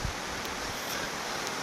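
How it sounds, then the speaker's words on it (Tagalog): Continuous roaring typhoon wind at a school buffeting the microphone, a dense, loud rushing noise with no voices. "sa lakas ng hangin guys, ayan o. Lakas ng hangin."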